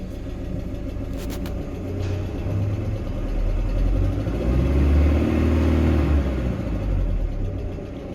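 A GAZelle van's UMZ Evotech 2.7 engine with an aluminium block and a knocking hydraulic lifter runs steadily close by, a low continuous rumble that swells slightly midway, with a faint fast ticking within it.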